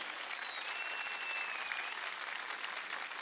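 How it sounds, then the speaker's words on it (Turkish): A large outdoor political rally crowd in Manisa applauds the nation's youth, a dense, continuous wash of clapping from many hands at a distance, steady throughout with no speech over it. "Türkiye Cumhuriyeti'nin bütün gençlerine bir moral alkışı duyayım. En kuvvetli alkış."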